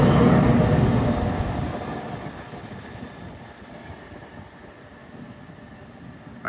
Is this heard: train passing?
yes